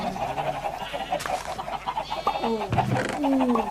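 Several chickens clucking and squawking in short overlapping calls in a Minecraft Skyblock game, moderately close, with no talking.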